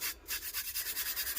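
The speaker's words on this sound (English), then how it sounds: "when you're burnishing like this on the tack-it method, you're laying the glitter down" Glitter is burnished onto an epoxy tumbler with quick back-and-forth rubs, making a soft, rhythmic swishing of about a dozen even strokes, faint and close.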